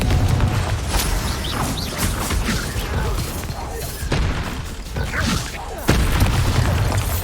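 The Confringo fire spell from Hogwarts Legacy goes off in a series of loud booming blasts with crashes and debris over several seconds, dense and close, with voices mixed in.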